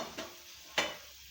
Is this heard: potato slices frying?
yes